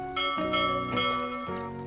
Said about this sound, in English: And he loved to ring my brass bell.